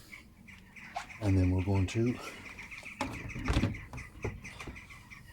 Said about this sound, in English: oh, we have a few birds flying around